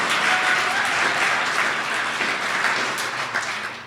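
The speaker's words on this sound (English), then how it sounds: "So let's give him another round of applause if we can." A crowd at a political holiday gathering claps in a steady, full round of applause, moderately loud and sustained, easing slightly at the close.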